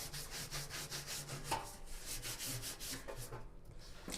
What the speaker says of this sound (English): Make sure you scrub it pretty well.